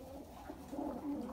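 Pigeons or doves cooing softly in an outdoor aviary at an animal shelter, a short low murmuring coo at moderate distance with no talking.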